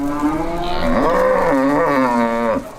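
Cattle at a livestock market in Nizwa, Oman, give one loud, drawn-out moo close by that rises and falls in pitch before cutting off, with no voices heard.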